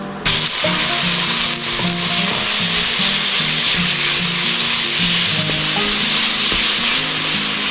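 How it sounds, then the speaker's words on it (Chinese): Ground pork for mapo tofu hits hot oil with ginger and garlic, sizzling and crackling steadily and loudly up close, with occasional stirring scrapes and no voices. "我们来下绞肉"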